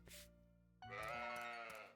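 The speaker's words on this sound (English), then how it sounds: "Here's your sheep." A sheep in the farming game Story of Seasons: Olive Town bleats once, a short, clear, nasal baa after a brief soft chime, close and alone with no talking.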